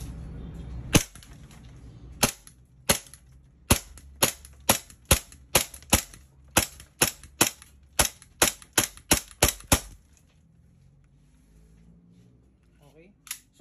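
E&C Glock 17 Gen5 gas blowback airsoft pistol firing about twenty sharp cracks in a quick irregular string, close and loud, followed by quiet handling sounds.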